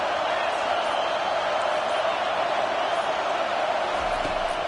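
A stadium crowd at an NCAA college football game gives a steady, dense roar, loud and continuous throughout with no pauses.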